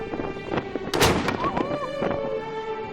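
A cannon salute in Valletta, fired to greet an arriving cruise ship, booms once loud and near, with a sharp crack and short echoing tail over ambient background with faint whistling tones.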